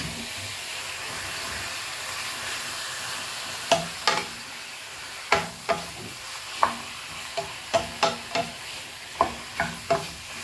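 Pineapple adobo being stirred in a pan, a soft simmering hiss under a run of spoon-on-pan scrapes and knocks, about a dozen distinct strokes in the second half, close and fairly loud.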